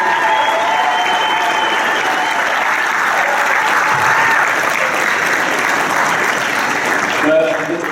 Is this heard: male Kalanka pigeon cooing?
no